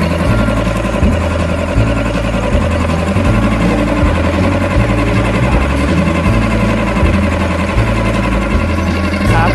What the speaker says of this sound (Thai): ตอนนี้ก็คือสตาร์ทเครื่องแล้วนะครับ